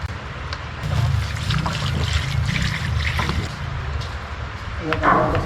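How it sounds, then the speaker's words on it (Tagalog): Water trickles and splashes steadily into a cooking pot at a campsite, a continuous liquid pour with faint clinks, while people talk in the background. "Lagyan ng tubig."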